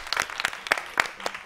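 Audience applause at a Guinean broadcast event on waste management, brief and fairly faint, with scattered claps rising in a few soft bursts and no talking over it.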